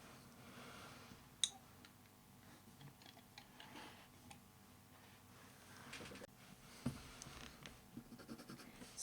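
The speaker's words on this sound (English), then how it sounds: "Now I'm going to take the white pencil and do a little bit of blending into those lighter areas there." A white coloured pencil softly scratches over paper while blending light areas, giving a faint, steady rasp with occasional small ticks and taps.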